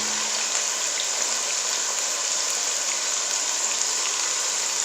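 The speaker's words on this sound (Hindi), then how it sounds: "देखो जी पानी को हमारा बॉयल आना शुरू हो गया है, गरम गरम ये लगने लग गया है पानी" A pot of water for Chinese rice begins to boil on the stove, giving a steady, even hiss that runs unbroken throughout.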